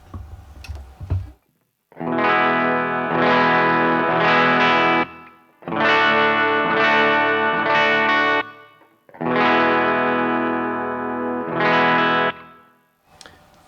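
Clean electric guitar played through an amp with a touch of reverb, three sustained chord phrases with short gaps between, loud and close with ringing decays.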